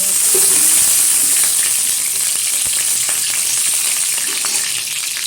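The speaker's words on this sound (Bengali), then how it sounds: "ঘিটা গরম হয়ে গেছে ঘিয়ের মধ্যে দিয়ে দিচ্ছি দুটো তেজপাতা মাঝখান থেকে ছিঁড়ে আর কিছুটা এলাচ" Bay leaves and cardamom dropped into hot ghee give a loud, steady sizzle and crackle that runs close up and without a break, easing off slightly toward the end, with no voices over it.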